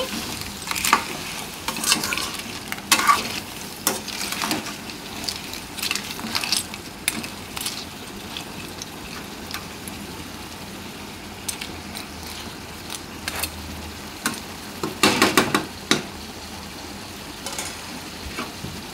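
A ladle stirs crab pieces coated in ginger, garlic and onion paste for an Andhra-style crab curry, with repeated scraping and clattering against the pan over a steady low sizzle, close by with no talk.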